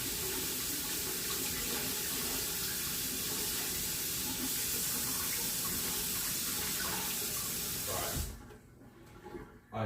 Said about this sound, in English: Gonna give it a quick rinse.